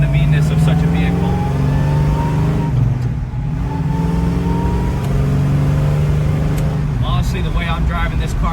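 A 1970 Chevrolet Chevelle SS with a big-block engine cruises on the road, its deep engine drone rising and falling through gear changes, loud and close, with someone talking over it.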